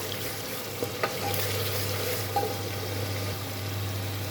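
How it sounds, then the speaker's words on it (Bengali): Mixed vegetables sautéing in a pan for a Bengali mixed-vegetable dish, a steady low sizzle with a few stirring knocks, over a constant low hum and with no talking. "আমি এটা ভালোভাবে কষিয়ে নিব"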